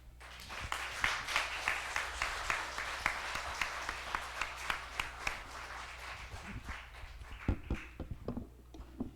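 A church congregation applauds steadily after a lecture, with dense overlapping claps, the clapping swelling early and thinning out toward the end.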